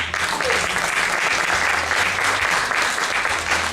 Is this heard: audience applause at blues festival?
yes